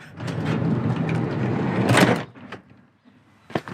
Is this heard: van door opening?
yes